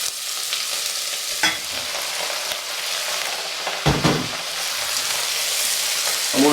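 Rabbit bones frying in a hot pan, a loud, steady sizzle close by, with a couple of sharper bursts and scrapes as the pieces are moved and stirred.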